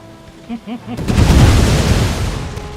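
Grenade blasts and gunfire in the strategy game Empire: Total War, with a couple of short bursts giving way to a loud, sustained explosive roar that slowly fades.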